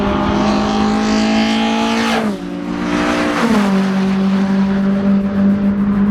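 A stripped-out Renault Clio 182 engine revs hard and loud, its harmonic note dropping briefly around the middle before climbing and holding a steady high-rpm drone to the end.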